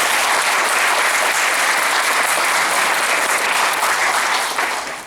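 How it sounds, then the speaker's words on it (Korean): An indoor crowd at an extraordinary general meeting of Singil District 11 redevelopment association members, held to dismiss association officers, gives sustained, loud applause, thick and even throughout before trailing off at the end. "우리 윤성환 조합원님께 다시 한번 큰 박수를 격려해 주시기 바랍니다"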